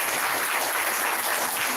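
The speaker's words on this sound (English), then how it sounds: "a big round of applause for all of you also" Dense audience applause at a panel discussion, a loud continuous wash of many people clapping at once for a couple of seconds.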